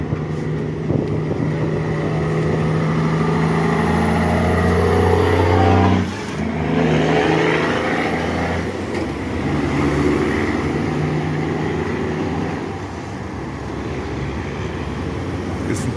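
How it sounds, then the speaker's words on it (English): A truck engine on a Jamaican highway drones steadily and loudly from close inside the cab. The rumble stays continuous, with a brief dip around the middle as the engine note changes, and there is no talking. "Listen to the raw power of the engine"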